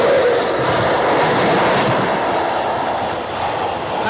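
Mumbai–Hyderabad SF Express train 22732 running between Mumbai and Hyderabad via Pune, a loud continuous rumble of carriages and wheels on track with rhythmic clatter, heard up close from on board.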